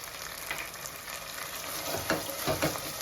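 Goat head curry frying in a pan gives a steady, close hiss of sizzling oil with a few soft stirring scrapes near the end, fairly quiet and without any talking.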